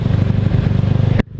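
A Honda Vario motorcycle fitted with a loud open exhaust runs with a harsh, rapid popping rumble, close and loud, that cuts off abruptly near the end.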